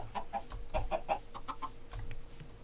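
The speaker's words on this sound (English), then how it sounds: "Three chickens." Chickens clucking in Minecraft hardcore survival, a run of quick, rhythmic clucks that repeat in short bursts, clear and close, with no talking.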